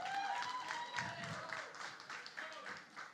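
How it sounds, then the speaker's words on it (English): Faint, distant applause from a press conference crowd for Salman Khan, Kichcha Sudeepa and Jacqueline, a light ongoing patter of hands with a few voices and tones underneath. "A big round of applause."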